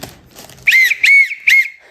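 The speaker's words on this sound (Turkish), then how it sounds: "Buradan da sanırım düdüğü var." A toy car's whistle sounds three times in quick succession, loud, bright, warbling toots close by, after a brief soft rustle.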